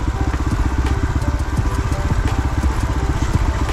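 A small motorcycle engine putters steadily up close on a night ride from Pokhara toward Tanting village, its rapid even firing pulses droning throughout with no break.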